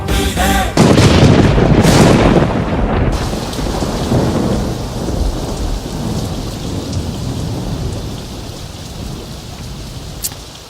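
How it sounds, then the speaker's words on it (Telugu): Heavy rain pours steadily while loud thunder rumbles and cracks in the first few seconds, then the downpour continues alone, dense and close. "ఏమిటో ఈ వర్షం"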